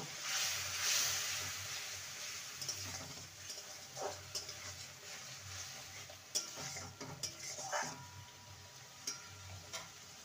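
Spices cooking with Kashmiri chili powder and green chilies, stirred in a pan of hot oil for a raw banana and chana dal dish: a soft steady sizzle broken by faint scrapes and taps of the spoon, with no talk.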